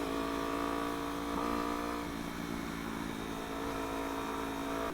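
Motorcycles ride and overtake along a road, a steady loud engine drone with a rising pitch and a continuous hum close by throughout.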